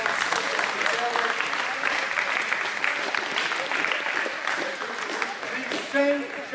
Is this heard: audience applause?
yes